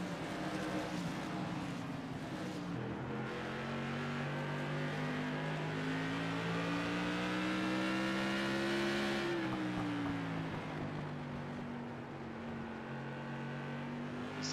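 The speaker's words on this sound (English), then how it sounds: "Check out Mike Hasty as Garrett Kinder is trying to make the best of the situation and run him down." Tour modified race cars roar around Stafford Speedway in a loud, sustained engine drone that rises and falls as the cars accelerate and lift through the corners, with no talking.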